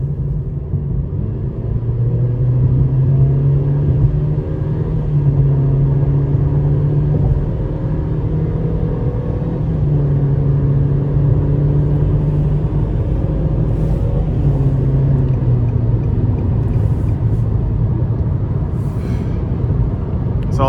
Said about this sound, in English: Let's put it in sport, give it a little throttle here.